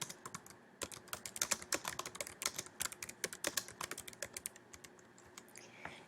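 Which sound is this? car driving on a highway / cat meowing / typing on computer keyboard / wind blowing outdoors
typing on computer keyboard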